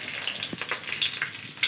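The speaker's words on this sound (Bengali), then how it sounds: "এই গোটা গরম মশলা ফোড়ন দেবো" Whole garam masala crackling in hot ghee and white oil in a kadai, a soft steady sizzle with small pops and spits close by.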